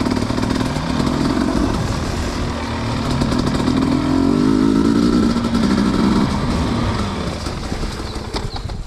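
A dirt bike engine ridden on a muddy trail in pouring rain drones loud and close, its revs rising and falling gently under light throttle.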